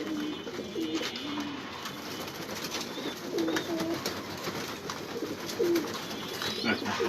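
Several domestic pigeons coo repeatedly near at hand while being fed, soft throaty calls recurring in uneven bursts over a low background murmur.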